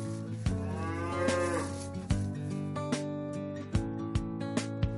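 Japanese black cattle moo on a large farm, drawn-out lowing calls that overlap near and far, with sharp knocks and clatters sounding in the barn between them.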